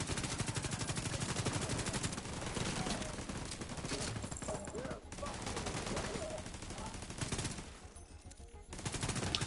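Sustained automatic turret fire from The Division 2, a dense rapid rattle of shots running almost unbroken, with a brief lull before the gunfire resumes near the end.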